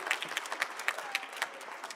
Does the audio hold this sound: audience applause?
yes